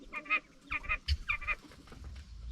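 Quail in a backyard quail tractor give a series of short, honking clucks in quick bursts, close and fairly loud, with no talking over them.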